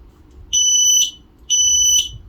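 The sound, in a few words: AEGISLINK S-RF500 smoke detector alarm sounding on test button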